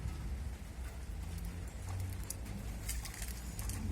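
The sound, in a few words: rain falling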